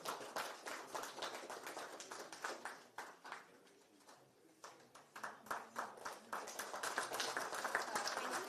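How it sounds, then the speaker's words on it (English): Audience applause at a live business awards ceremony, scattered claps from a modest crowd, fairly quiet, dipping briefly in the middle before picking up again. "Big round of applause, please."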